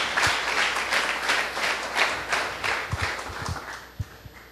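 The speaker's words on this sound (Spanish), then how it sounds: "¿Cuántos aplauden el nombre del bendito sea?" A congregation in a Messianic Jewish synagogue service breaks into sustained applause, dense rapid clapping from many people filling the room, thinning toward the end with a few louder individual claps.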